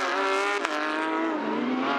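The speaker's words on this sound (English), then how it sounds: "the flat 6 4-litre engines barking through the relatively early morning here" Porsche Carrera Cup Asia race cars with flat-six 4-litre engines at Ningbo, one engine note rising and falling up close, a loud sustained howl with a brief sharp burst midway and no talk.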